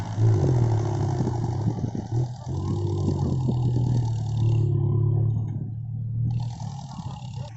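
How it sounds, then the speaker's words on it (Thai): Ford farm tractor driving at a land-filling site, a steady low diesel chug with rhythmic clattering pulses, fairly close and continuous, fading briefly near the end. "ฝั่งนี้จะเป็นรถไถฟอร์ดนะครับ"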